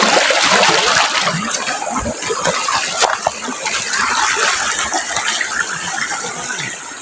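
Clean river water flows steadily and close by, a continuous broadband rush with small splashes, loud and alone without talk.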